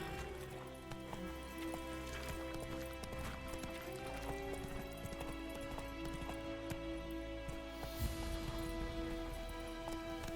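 The horse Roach galloping in the video game Witcher 3: Wild Hunt, a steady rhythmic clip-clop of hooves running continuously under a dense layer of game music and ambience.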